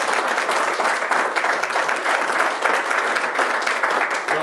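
Audience at a cadet breakfast clapping, a loud and steady round of applause from a room full of people that sustains evenly from start to finish.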